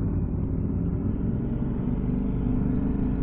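A Ducati Panigale V4S sportbike with a Zard exhaust riding along, giving a steady, deep, muffled rumble that holds constant and close without clear revving changes.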